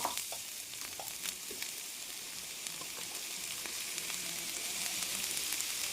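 Chopped onions fry in coconut oil and butter, producing a steady, close hiss of sizzling with occasional soft crackles and stirring sounds throughout.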